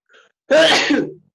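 A single loud human sneeze, with a faint intake breath just before the sharp burst that fades over about half a second, heard alone without talk.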